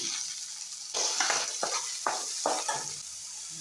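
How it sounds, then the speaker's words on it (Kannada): Vegetables sizzle in a hot pan while a spoon stirs them in several quick scraping strokes, the frying hiss steady and close, with no talking. "ನೋಡಿ, ಫ್ರೈ ಆಗಿದೆ ಚೆನ್ನಾಗಿ"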